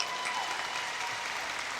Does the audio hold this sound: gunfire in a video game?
no